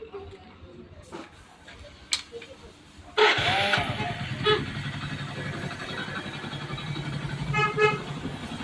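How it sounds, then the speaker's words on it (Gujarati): A freshly repaired vehicle engine fires up with self-start partway through, then keeps running at a steady, fairly loud idle after a quiet stretch with a few faint knocks. "હવે આ ગાડીને સ્ટાર્ટ કરાવું છું, તમે એનું ફાયરિંગ જોઈ લો."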